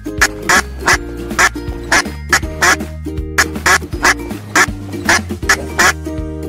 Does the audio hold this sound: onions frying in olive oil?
no